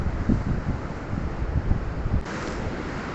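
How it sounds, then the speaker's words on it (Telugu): Wind sweeps steadily across an open beach beside a small one-person tent, with a broad rushing roar that may carry surf beneath it, and a brief dip near the end. No voices are heard. "బీచ్ కదా మంచిగా గాలి వస్తుంది"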